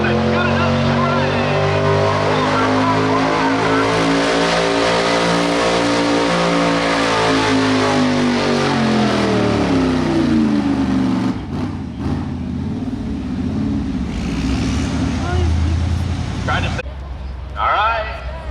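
A Chevrolet pulling vehicle at a Noble County summer tractor pull in Caldwell, Ohio, revs loud and close with a rising-then-falling engine roar that holds for most of the run before cutting out, and an announcer talks over it.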